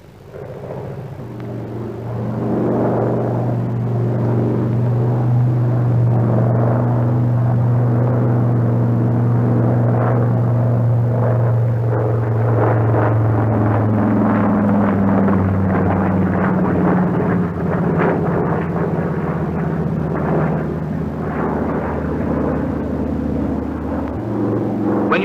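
A Brewster SB2A Buccaneer aircraft's piston engine drones steadily through a vertical bank at 170 knots, a loud, continuous rumbling roar that shifts slightly in pitch midway, with no talk over it.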